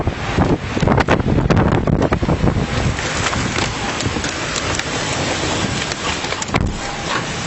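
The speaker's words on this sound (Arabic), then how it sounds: "شوفوا قوة هاي العاصفة" A strong windstorm roars steadily with buffeting gusts battering the microphone, loud and continuous throughout, with no speech.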